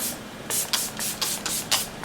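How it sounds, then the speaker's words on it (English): Makeup setting spray misted from a pump bottle in about seven quick, loud, airy bursts at an even rhythm, close by with no talking. "It's finished off with a bit of a setting spray."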